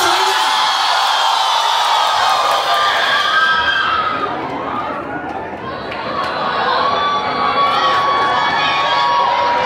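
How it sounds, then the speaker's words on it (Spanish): A concert crowd at Club Chocolate during a show shouts and cheers loudly and continuously, dipping briefly midway before swelling back up. "¡Que se escuche ese grito fuerte!"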